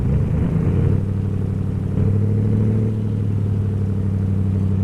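A car engine in the Automation game idles up at about 1,500 rpm, a steady low rumbling drone with a slight rise in pitch, loud and continuous with no talking.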